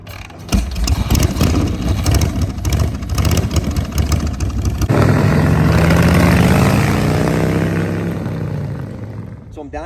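A Harley Shovelhead chopper engine cranking in rough, uneven pulses, then catching and running loud and close with rising revs, while a voice talks briefly at the start.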